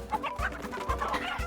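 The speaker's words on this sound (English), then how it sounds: "the nearby chickens all frantically run in the opposite direction" Chickens cluck in short bursty calls in the farming video game Peachleaf Valley: Seeds of Love, several birds close by with low thumps between the calls.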